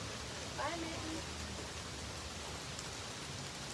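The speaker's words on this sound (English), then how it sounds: "Can you hear the rain? Shh, nice rain sound." Steady rain falling outdoors around a porch, a dense even hiss holding throughout, with a brief murmur of a voice near the start.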